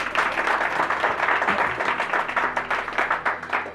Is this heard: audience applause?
yes